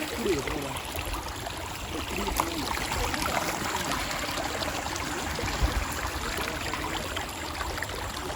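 A small stream flows through forest near Vagamon with a soft, steady, even wash of running water, fairly faint and with no voices.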